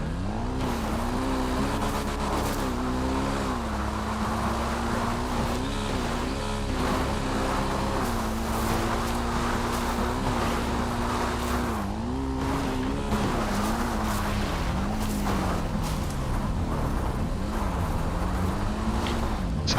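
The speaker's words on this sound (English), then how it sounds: "Alright, and I just hop on the motorcycle here." Motorcycle engine from a video game heist-scouting mission, a steady loud drone with shifting pitch as the bike is ridden toward a tower, continuous and alone without talk.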